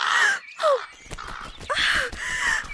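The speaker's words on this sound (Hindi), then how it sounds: "एक कौवा ही तो है।" A crow caws repeatedly, loud and close, with a few harsh, drawn-out calls spread across a brief moment and no talk over them.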